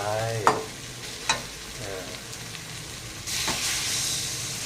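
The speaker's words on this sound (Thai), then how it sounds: "พอผัดพริกแกงจนหอมแล้วนะครับเนี่ยครับ ก็เติมด้วยหูสันคอของเรานะครับไป" Pork neck stir-fried in red curry paste in a hot pan gives a steady close sizzle with a few sharp spatula scrapes, then a louder hissing surge near the end. No one speaks.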